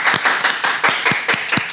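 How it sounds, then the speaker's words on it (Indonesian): A group clapping hands on cue during a talk show about a maths teacher, about eight distinct, evenly spaced claps in a quick rhythmic pattern, close and fairly loud. "Tepuk tangan dulu."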